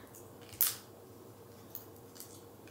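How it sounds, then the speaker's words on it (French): Scissors snip through the cardboard packaging of an Advent calendar, one sharp cut standing out clearly with a couple of fainter snips afterward, close and quiet in a calm room. "on le fera avec des ciseaux, ce sera plus facile"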